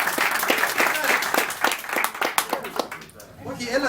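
Applause of clapping hands rises from a small audience, steady and fairly close, while a person keeps talking over it before it thins out near the end.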